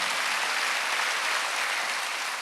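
Steady, dense applause from a church congregation during a Wednesday worship service, continuous and fairly loud throughout with no breaks.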